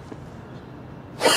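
A single sharp sneeze bursts out near the end, loud and close, after a stretch of quiet outdoor ambience on a bench in New York's Central Park.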